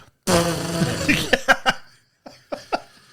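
A voice imitates machine gun fire as a buzzy, kazoo-like fart sound: one long sputtering burst, then a string of short pops, followed by a soft chuckle.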